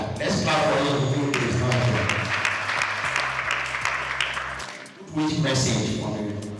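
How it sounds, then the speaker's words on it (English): Conference audience applause, a broad steady wash of clapping from a seated crowd that holds for several seconds, dips briefly, then swells again, with some talk mixed in underneath. "Let's clap for you."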